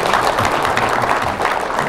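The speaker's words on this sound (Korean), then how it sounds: "예, 박수 화끈하게 쳐주세요." An audience at a Korean talk claps in a dense, loud burst of applause that holds steady for about two seconds with no voices over it.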